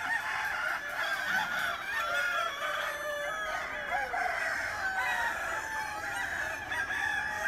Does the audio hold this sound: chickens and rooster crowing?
yes